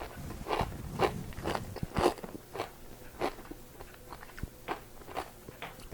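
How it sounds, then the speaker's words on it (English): Homemade sourdough crackers snap and crunch between the teeth in about a dozen sharp, close bites and chews at an uneven, steady pace, with quiet gaps between. "these crackers, have a very nice snap to them"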